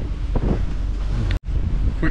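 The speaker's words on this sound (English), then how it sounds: "It's going to be windy, so I won't be able to talk when I point the camera outside." Heavy wind buffeting a camera microphone aboard a boat near Belleville, a loud continuous rumbling roar with a brief dropout midway, with faint talk underneath.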